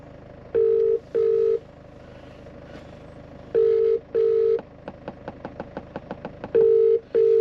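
Ringback tone of an outgoing phone call played through a car's audio system, two-pulse rings repeating three times with a burst of short dialing beeps between them, loud and clear with no talking.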